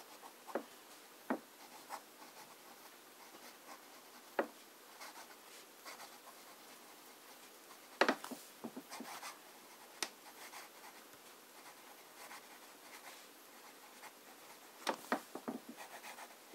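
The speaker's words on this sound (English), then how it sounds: "Let's start with some fine writing." Fine-nibbed fountain pen writing with Parker Penman Sapphire ink, giving quiet scratchy strokes and small ticks across the paper, close up, with brief pauses and a denser flurry of scratches near the end.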